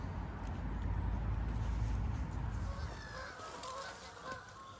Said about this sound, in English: Oh, here come the geese.